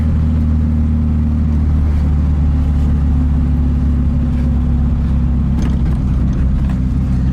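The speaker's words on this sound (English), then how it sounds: "I didn't even downshift and it just goes. It's got torque." A lowered 1965 Karmann Ghia pulls away under acceleration without a downshift, its engine a loud, steady low drone that holds continuously throughout with no talk over it.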